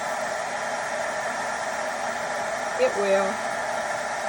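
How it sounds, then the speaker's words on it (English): Handheld blow dryer drying a leaf glued onto a small junk-journal book page, a steady loud close whoosh of airflow with a hum that barely changes, a brief murmured phrase and a few small handling taps near the end. "turn the blow dryer on, and it goes everywhere, everywhere"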